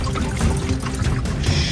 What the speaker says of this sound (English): With the water pump on, water has just been flooding down here.